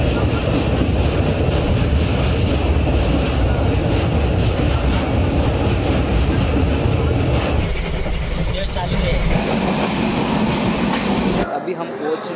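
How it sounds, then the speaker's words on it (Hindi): A passenger train running on rails on a Mumbai to Varanasi journey, with a loud steady rumble and rattle heard from inside, continuing for most of the clip before cutting off abruptly near the end. "अब चलते हैं ट्रेन के अंदर बैठते हैं, क्योंकि सिर्फ यहाँ 10 मिनट होल्ड है ट्रेन का।"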